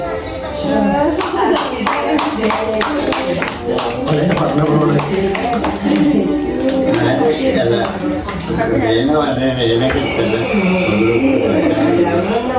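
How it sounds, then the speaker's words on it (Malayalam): A family claps together at a small child's birthday celebration at home, giving steady, brisk, close-up hand claps that run for several seconds while people chatter over them. "ഇവിടെ അടുത്ത് നിൽക്കി ക്ലാപ്പ് അടിക്ക്"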